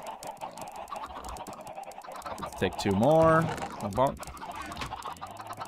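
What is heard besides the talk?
chickens clucking in the video game Minecraft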